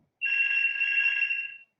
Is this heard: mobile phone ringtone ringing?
yes